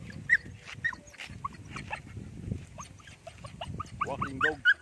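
A dog out on its first walk makes excited whimpers, yelps and snorts, close and irregular, over outdoor rustling and footsteps.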